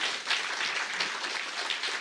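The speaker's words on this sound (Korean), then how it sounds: "다시 한번 박수 부탁드립니다." A church congregation applauds during a worship service, a dense, steady wash of many hands clapping together for about two seconds with no pauses.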